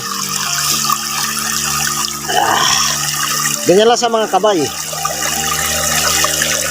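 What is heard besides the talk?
water being poured into a container for plants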